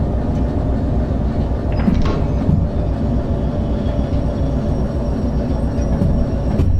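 Train braking in the Derail Valley 2 simulation game, a steady low rumbling roll with metallic squeal streaks and a few clunks, loud and continuous throughout with no voices.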